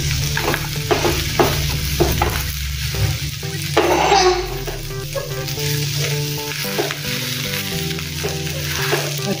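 Spices with red chili powder, turmeric and garam masala are stirred in a hot frying pan, a spatula scraping in repeated strokes over a steady oil sizzle, with a low hum beneath.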